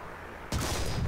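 An SU-85 tank gun fires in the video game War Thunder: one sudden heavy boom cuts through quiet ambient noise and rolls on in a loud, rumbling tail.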